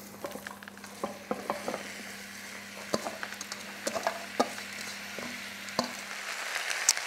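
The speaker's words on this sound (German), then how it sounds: "Ich nehme hier in dem Fall ein Rapsöl. Dann gebe ich meine Zwiebeln dazu." Onions sizzle and fry in rapeseed oil in a pan, a steady close crackle broken by frequent sharp pops and spits, with no talking.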